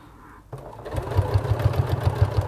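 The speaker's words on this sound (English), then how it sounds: "once again just stitching within that ditch, going slowly" A sewing machine runs slowly along a bag seam, starting after a quiet moment and settling into a steady, close, rhythmic chugging pulse.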